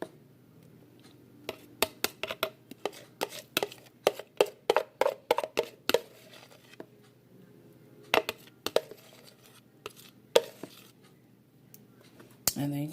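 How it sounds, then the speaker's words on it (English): Metal spoon working banana pudding in a dish, giving a string of light clinks and scrapes in irregular bursts, some quick clusters and some gaps, with a voice talking faintly underneath. "take the back of the spoon and kind of do a spreading motion there in order to evenly distribute the pudding"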